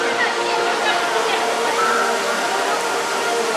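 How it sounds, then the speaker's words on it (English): Waterfalls in a theme park pour a steady, loud broadband rush, close and unbroken throughout, with a faint hint of voices or crowd sound mixed under the water. "Nice waterfalls"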